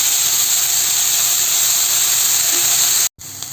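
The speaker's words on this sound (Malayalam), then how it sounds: "അരിഞ്ഞു വെച്ചിരിക്കുന്ന ചീരയാണ്, അത് ഇതിലേക്ക് ചേർത്ത് കൊടുക്കാം" Chopped spinach tossed into a hot pan gives off a loud, steady steam hiss that holds almost unbroken, cutting out for a moment near the end before resuming.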